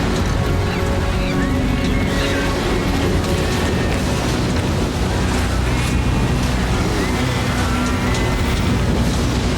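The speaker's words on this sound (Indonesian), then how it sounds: "Air keluar dari tanah, hujan jatuh dari langit, dan gunung-gunung tertutup ombak." Dense, continuous roar of rushing water and crashing waves, loud and unbroken with a windy rumble underneath.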